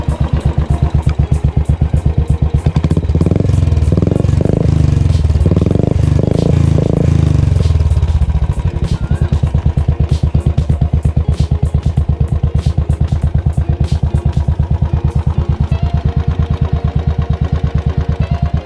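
Loud Royal Enfield Bullet Classic motorcycle engine with a modified silencer, deep, throaty exhaust thump, revving hard for several seconds before settling into a steady, rumbling idle.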